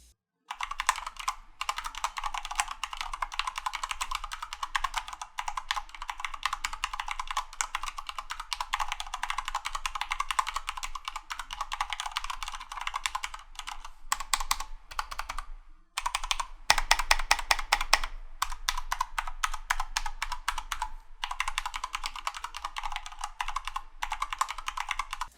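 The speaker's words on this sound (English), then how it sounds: "let's go ahead and hear what these switches sound like on this keyboard." Keystrokes on a Corsair K65 RGB Mini 60% keyboard with Cherry MX Red linear switches clatter in a steady, fast run of close, crisp clicks, broken by a few short pauses, with no voices.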